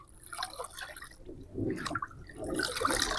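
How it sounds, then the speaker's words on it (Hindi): Liquid fertilizer being stirred and dissolved into a container of water for adenium plants, with soft sloshing, swirling and dripping sounds close by, fairly quiet throughout. "इसको अच्छी तरीके से घोल लीजिए सारे पानी में।"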